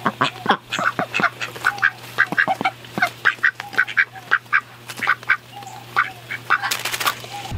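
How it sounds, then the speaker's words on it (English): Several ducks quack steadily and close by while eating live wax worms, a busy overlapping chorus of nasal calls over a low steady hum. "I've seen ducks eat all kinds of worms and insects"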